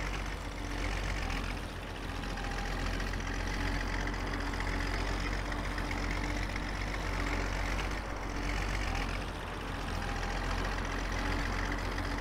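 A DT-175S crawler tractor in Farming Simulator 19 runs with a steady, loud low engine drone that keeps a constant rumble under its pull, with a brief dip near the middle and no talk.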